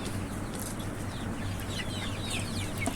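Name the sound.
young desi rooster chicks clucking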